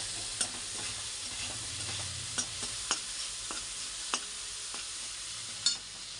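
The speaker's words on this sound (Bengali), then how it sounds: "তো এখন এটা আমি ভাজা ভাজা করে নিচ্ছি।" Tomatoes and green chili fry in a pan with a soft, steady sizzle, broken by occasional sharp scrapes and taps of a spatula stirring, fairly quiet and close.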